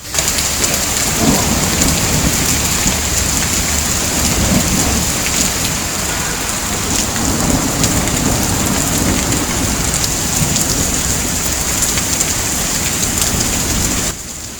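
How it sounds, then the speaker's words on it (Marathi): Heavy, steady unseasonal rain pours in Amravati throughout, with a low rumble of thunder underneath, loud and continuous, no voices. "आज पावसाने हजेरी लावली."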